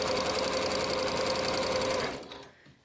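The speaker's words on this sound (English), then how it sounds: "I'm gonna stitch this seam with right sides together using the 5/8 inch seam allowance" A sewing machine runs a narrow zigzag stitch down a seam of fabric placed right sides together, a loud, steady, close whir for about two seconds that then stops.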